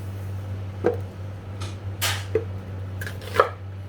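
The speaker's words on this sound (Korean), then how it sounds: "4분의 1만 썰어 넣을게요" A knife chops a quarter of an onion on a cutting board in a home kitchen, with a few separate sharp cuts spread over a few seconds and a steady low hum underneath.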